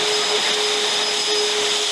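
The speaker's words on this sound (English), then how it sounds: "let's crack on with a single battery backpack blower first" An EGO single-battery backpack leaf blower blasts garden mulch, a loud, steady high-pitched whine and rushing airflow that stays constant and close for the whole stretch, with no voices.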